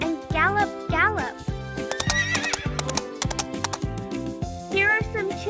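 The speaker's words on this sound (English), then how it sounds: "Listen to the sound. Neigh and gallop, gallop." A cartoonish horse neighs in rising whinnies several times over steady clip-clop galloping hoofbeats, with a voice speaking throughout in a children's farm-animal lesson.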